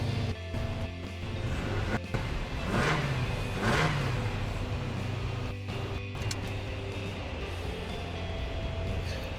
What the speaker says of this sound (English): I'll put the camera down over here and give it a rev and see what happens.